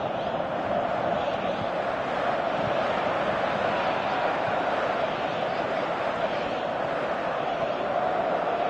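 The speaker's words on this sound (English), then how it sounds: "you can hear how the crowd are reacting to this too" A football stadium crowd in the PES 2018 video game roars as a steady, dense wash of noise that holds at an even level throughout, with no voices standing out above it.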